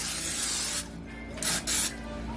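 Cooking spray hisses from an aerosol can onto a cake pan for fruit cake, one long spray followed by two short close bursts, loud and alone.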